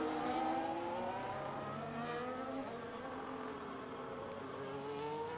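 An F1 25 race car in the video game, braking hard and cornering through the first chicane at Monza, its engine note dropping and rising in steady harmonic sweeps, loud and continuous with no talk.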